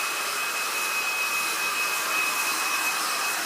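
A heat gun blows steady hot air across vinyl wrap film on an Audi R8 GT3 bonnet, a loud, continuous airy whoosh with a thin tonal whine, running unbroken throughout with no talking.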